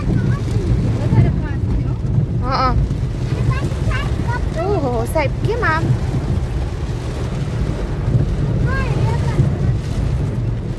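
Heavy rain drums hard and continuously on a car driving near Sasan Gir, a loud broadband roar like wind with brief spoken exclamations over it.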